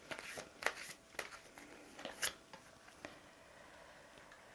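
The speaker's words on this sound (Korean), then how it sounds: "또 소울 카드 한번 뽑아볼게요." Tarot cards being shuffled and drawn, heard as a series of faint, soft papery riffles, flicks and taps at an uneven rhythm with no talking.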